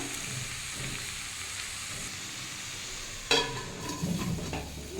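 Cabbage frying in a pan, a soft steady sizzle that is joined by a sudden clatter of stirring partway through, followed by louder scraping and hiss.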